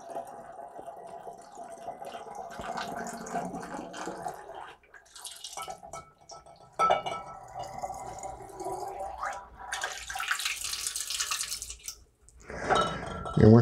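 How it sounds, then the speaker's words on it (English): Water poured through a funnel into wine bottles, a gurgling, splashing fill with dripping and glassy knocks, close and moderately loud, broken by short pauses and ending in a louder burst. "And then we wanna go ahead and start filling up our bottles."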